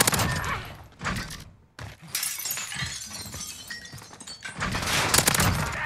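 A cruise missile strike in Modern Warfare lands as a series of harsh, crashing blasts and debris-like shattering, with a brief silent gap, then repeated loud impacts building again toward the end.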